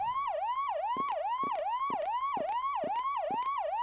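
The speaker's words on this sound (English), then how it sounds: "A police siren car is heard." A police car siren wails in a steady repeating up-and-down pattern, loud and alone, in the PS1 horror game Clock Tower.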